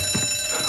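An alarm rings steadily in a mafia video game cutscene, a continuous high electronic bell tone filling the short moment at a fairly loud level.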